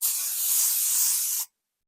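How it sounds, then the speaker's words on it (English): Aerosol cooking spray hissing steadily onto a baking pan for about a second and a half, one continuous close, loud burst that cuts off abruptly, with no talking. "So instead we're gonna spray the baking pan."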